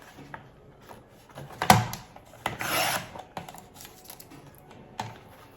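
Scissors or a craft knife cutting a 1.5 cm by 15 cm strip of paper for a Christmas star, heard as short raspy snips and a longer slicing stroke, close and fairly quiet, with no talking.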